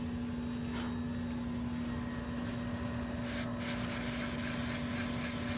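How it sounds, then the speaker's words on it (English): A 600 grit sponge rubs over painted bodywork in small circles, giving a soft, steady scrubbing hiss under a constant background hum, with no talking. "get my little trusty 600 sponge and kind of work those 320 scratches away"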